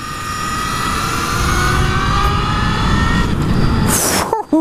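Brammo Empulse R electric motorcycle accelerating hard in sport mode, a loud steady electric motor whine rising in pitch under heavy wind rush, continuous for several seconds before a brief break at the end.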